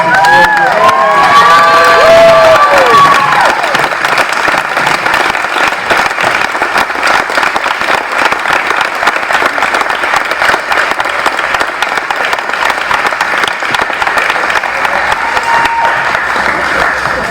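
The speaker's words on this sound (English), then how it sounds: "give a big round of applause to Miss Susie Blackman" A school awards-night audience rises to its feet for a big round of applause, loud sustained clapping mixed with whoops and cheers at the start, then settling into steady clapping that continues to the end.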